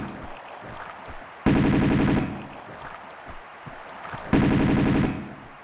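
Video game gunfire in Tomb Raider 2 on an offshore rig level as an enemy is shot: two loud bursts of rapid automatic fire, each lasting under a second, separated by a quieter stretch of game ambience.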